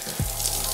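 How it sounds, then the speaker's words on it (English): A head dipped back into a basin of water gives a short splash and slosh up close, then a softer, steady watery wash during scalp scrubbing, with no voices. "I'm gonna dip my head back in this water and then scratch and massage my scalp to get the dirt out"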